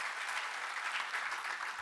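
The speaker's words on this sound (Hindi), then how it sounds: "तालियों के माध्यम से हम आपको साष्टांग प्रणाम करते हैं।" Audience applause at a Ved awards ceremony honouring Vedic scholars, a steady wash of many hands clapping at moderate volume with no voices, continuous throughout.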